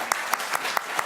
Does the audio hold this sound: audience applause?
yes